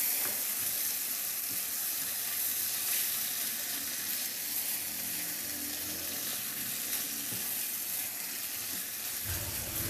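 Soy sauce and oyster sauce sizzle in a hot pan while being stirred, making a continuous bright frying hiss with faint scraping movements throughout.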